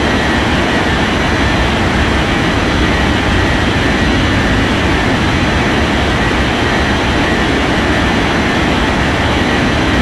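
Airliner roaring on its takeoff run in the Unmatched Air Traffic Control game, a steady, loud, broadband jet engine rumble that holds without a break, with no voices over it.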